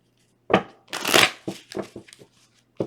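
A deck of tarot cards is shuffled close up in quick bursts of riffling and sliding, with a longer run of shuffling followed by several short clacks and a final snap.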